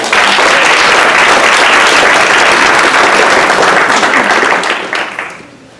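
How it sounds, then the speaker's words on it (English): Loud, dense applause from an awards-celebration audience, sustained evenly for several seconds before tapering off at the end. "how about one more round of applause?"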